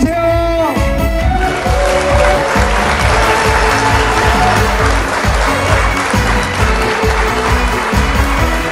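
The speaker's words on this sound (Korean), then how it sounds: "울산 시민 여러분 박수 한번 주세요." A concert crowd at a beach song festival in Ulsan applauds loudly and continuously for several seconds as a guest singer is introduced, with a rhythmic band beat pulsing underneath after a brief spoken opening.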